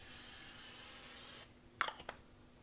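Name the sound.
nonstick cooking spray on griddle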